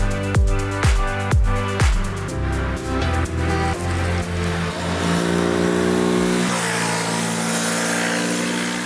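A Yamaha YZF-R3 sport motorcycle on a race track: several sharp revs rise and fall at the start, then the engine holds a sustained high-pitched drone that swells loud and close, with no voices.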